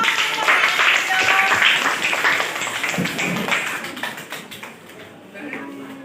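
Audience applause bursts out at a school presentation session, a dense crackle of clapping that slowly thins out while voices murmur underneath.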